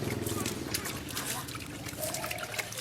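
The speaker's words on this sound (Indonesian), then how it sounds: "kita siram seperti ini" Fermented probiotic liquid is poured over livestock feed in a continuous trickling, splashing stream heard close up, with a person talking over it.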